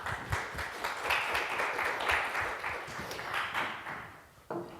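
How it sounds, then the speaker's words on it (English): Applause from a symposium audience for the speakers and staff, a moderate, uneven patter of clapping heard from a distance that thins out toward the end, with a sharp knock just before it stops. "a big applause"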